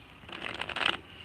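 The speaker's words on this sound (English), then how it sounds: "while I'm shuffling these cards" Tarot cards shuffled by hand, a soft papery riffling that swells in the middle and fades, close and fairly quiet with no talking over it.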